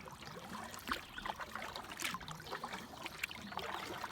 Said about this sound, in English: Nothing but the sounds of the birds chirping and my paddle in the water.